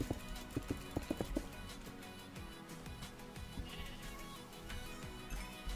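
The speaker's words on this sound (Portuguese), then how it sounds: "Uma ovelha nasceu aqui dentro, velho." Sheep bleating in a dinosaur-world video game, a run of short, fairly loud bleats early on and then fading into a busy background of game sounds.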